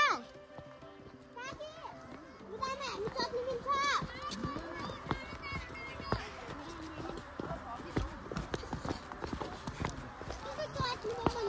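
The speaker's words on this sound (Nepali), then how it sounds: "घोडाहरू हेर्नुहोस्" Horses for hire carry riders along a trail near a temple park in Nepal, their hooves clip-clopping in irregular steps close by, while children chatter and shout and people talk throughout.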